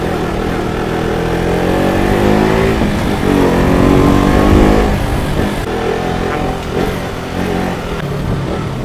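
A KTM RC 200 motorcycle being ridden on the road, its engine a steady loud drone that swells and eases with throttle changes, mixed with wind and road rumble and no talking.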